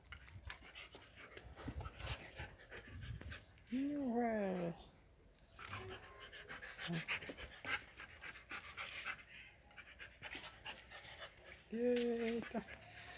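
A one-year-old mixed-breed Belgian Shepherd dog pants in quick rhythmic breaths close by, with a couple of short whimpering whines and a voice talking in between.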